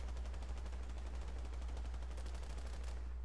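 Terran Republic automatic rifle with a 40-round magazine fired in the game Planetside 2, a fast, sustained burst of rapid shots, fairly faint under steady low background hum.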